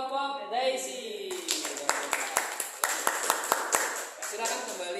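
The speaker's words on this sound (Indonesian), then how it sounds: "sekali lagi tepuk tangan untuk kelompok Daisy" A classroom of students claps for a discussion group, irregular hand claps starting after a voice and continuing under talking and a few cheers, close and moderately loud throughout.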